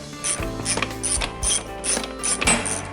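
A socket ratchet with a 14 mm socket loosens the brake caliper bolts on a 2001 Honda Hornet 600 motorcycle. Close, crisp ratcheting clicks come in quick bursts, repeated several times with short pauses, and no one speaks.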